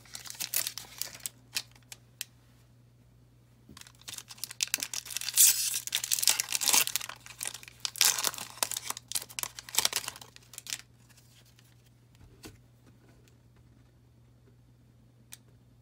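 A Magic: The Gathering Rivals of Ixalan booster pack is torn open, its foil wrapper crinkling and crackling in close, irregular bursts that are loudest midway and then fade to sparse rustles over a low steady hum.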